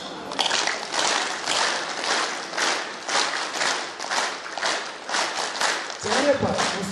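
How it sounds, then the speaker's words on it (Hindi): A large group at an indoor yoga camp claps in rhythmic yogic clapping, a dense steady patter of many hands pulsing in waves, with no talking over it. "यौगिक ताली के माध्यम से हम सेशन की शुरुआत करेंगे।"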